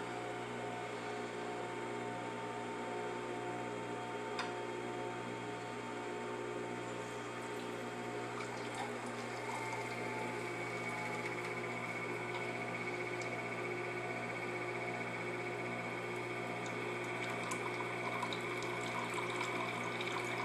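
Juice runs steadily from a juicing machine into a catcher, a continuous liquid pour over a constant motor hum, fairly close and even throughout with no talk.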